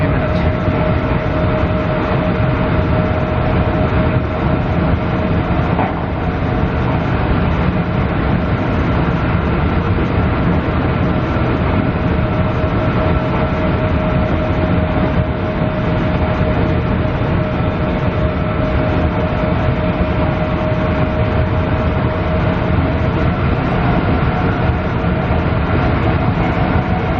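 A Tilt Train electric multiple unit runs at speed between Rockhampton and Gympie North, heard from inside near the front as a loud, unbroken rumble and roar with a steady whine that holds throughout.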